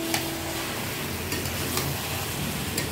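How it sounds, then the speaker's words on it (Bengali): A spoon stirs and turns softened, boiled bottle gourd (lau) in a cooking pan, giving a steady wet scraping and shuffling with a few sharper clicks against the metal, over a low background sizzle, close and alone with no talking. "এই পর্যায়ে ভালোভাবে উপর নিচ করে আরও একবার নাড়িয়ে দিতে হবে"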